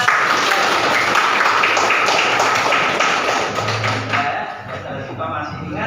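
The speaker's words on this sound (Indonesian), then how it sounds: "Kita beri tepuk tangan buat" A classroom full of students claps together in a sustained burst of applause that continues for several seconds, then thins and fades near the end.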